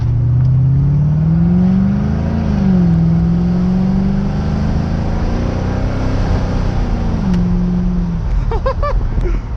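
A 1985 Corvette engine revs through a hard pull, a loud, close drone rising and dipping across gear changes, with a brief whine and chirps near the end.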